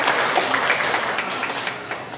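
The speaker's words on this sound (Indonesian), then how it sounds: "tepuk tangan untuk kemuliaan nama Tuhan" A congregation at a church birthday service held in a restaurant claps together, producing a brief burst of applause that starts loud and fades slightly.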